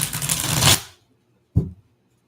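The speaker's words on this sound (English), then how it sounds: "I don't know how many times I got to shuffle these cards." Reading cards being shuffled, a dense papery riffle lasting under a second, then silence before one short soft slap of the deck settling.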